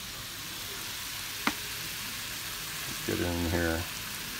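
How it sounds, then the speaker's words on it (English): Vegetables sauté in a pan for a chicken quesadilla taco filling, giving a faint steady sizzle with a sharp clatter near the start. A voice speaks briefly near the end. "we're gonna let these saute down for just a bit until they're you know, nice and soft"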